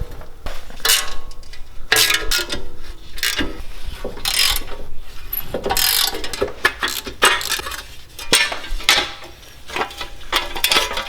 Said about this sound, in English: So we're going to go ahead and use a 10mm to remove the dust shield bolts.